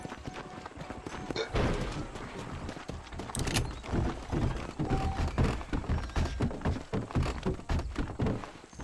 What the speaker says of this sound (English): Come here, horse.